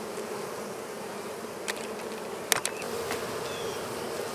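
Honey bees from a cat house colony buzz in a dense, continuous drone as they are worked down off a box into a nuc, with a few sharp clicks and knocks near the end.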